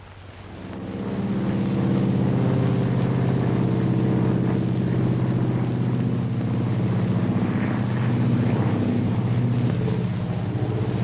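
An early propeller airplane drones steadily in a film scene, a loud, continuous engine roar that swells in from quiet and holds with a low throbbing hum.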